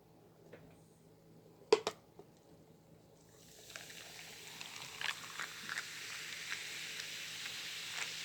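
Seafood boil sauce is poured over king crab, a soft, steady liquid splashing and trickling that grows after a few quiet seconds, with a couple of sharp clicks near the start, fairly faint and close.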